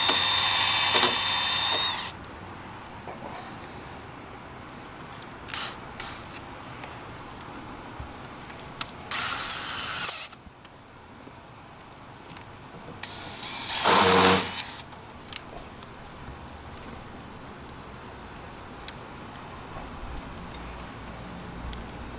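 A power drill briefly drives a single screw into an RV slide ski, with short bursts of whirring at the start, around nine seconds and near fourteen seconds, separated by quiet handling.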